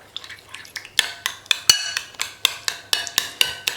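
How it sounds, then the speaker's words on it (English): A spoon stirs German matjes herring salad dressing in a bowl, giving a quick run of sharp clinks and scrapes against the bowl, close and fairly loud, in a steady rhythm. "so give it a gentle stir"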